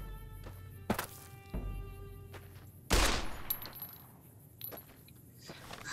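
Gunfire in the video game Fallout New Vegas: a few sharp shots with quieter clanks and thumps between them, one loud burst near the middle followed by a fading tail, with no talking.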